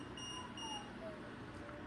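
Electronic beeps from a glider flight simulator signal the tow plane's release cue: a few short tonal beeps in sequence, moderately faint, over a steady background hum.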